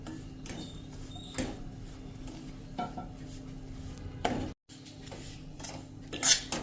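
Roasted mung bean powder is stirred in a pan over a medium gas flame, with a utensil scraping and clinking against the metal in irregular strokes and a faint background hiss, no voices.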